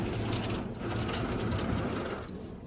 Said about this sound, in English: It's rinsing over the front, the entire top of the vehicle,